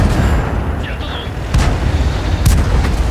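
Tank cannons fire in World of Tanks, heavy booming shots rolling out at intervals against a loud rumbling battlefield backdrop, with a few sharper reports layered in.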